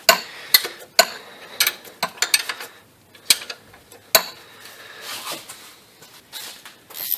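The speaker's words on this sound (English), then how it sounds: "Take this top alternator bolt off." A wrench works at the top alternator bolt on a Dodge Caravan / Town & Country, giving a series of irregular sharp metallic clicks and ratcheting taps, close and moderately loud, with brief pauses between.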